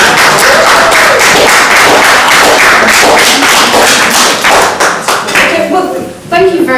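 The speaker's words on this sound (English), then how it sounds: "So round of applause for Emma." An audience at a talk gives loud, close, sustained applause, a thick wash of clapping that thins out near the end as voices start to come through.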